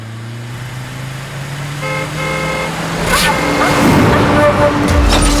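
A motor vehicle starts and pulls away amid street traffic, its engine humming and rising as it drives off, with horn toots sounding and people talking over the noise.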